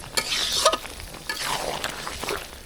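Potatoes with beef tilai (fat) and heart being sautéed in a pan for a Bogura-style curry, with a couple of scraping stirs and a light, steady sizzle close by, no voices.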